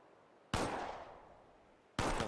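Two sharp, loud pistol shots in the Shadowrun tutorial, about a second and a half apart, each with a crisp crack and a lingering echoing tail over a quiet background.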